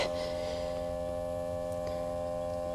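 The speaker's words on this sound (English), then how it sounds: "we'll go ahead and start the smoke machine up" Smoke machine hooked to a TW200 intake for a leak test runs with a steady electrical hum and faint buzzing tones, constant and moderately quiet with no change throughout.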